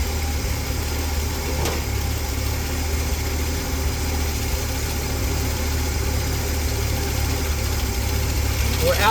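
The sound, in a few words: car engine idling with rebuilt Carter one-barrel carburetor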